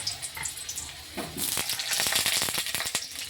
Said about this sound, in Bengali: গরম তেলের মধ্যে আমি এই আলুগুলোকে ভেজে নেব।